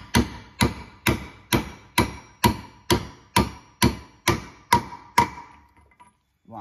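A mandrel struck with a hammer to drive an injector sleeve (part 86K1098) home in a Leyland 4/98 or 6/98 diesel cylinder head, about a dozen loud, evenly spaced metallic blows ringing briefly before stopping.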